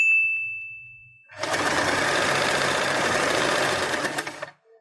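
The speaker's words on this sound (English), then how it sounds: "Fold the fabric in half and sew this part." A sewing machine stitches red fabric for a Christmas headband, a steady rapid mechanical hum running about three seconds close by, preceded by a faint bell-like tone and followed by the motor stopping.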